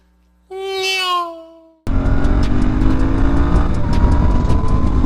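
A Royal Enfield Interceptor 650, an air-cooled English-style parallel twin, opens up around 5,000 RPM with a loud, steady, continuous engine roar. A brief rising tonal sound precedes it.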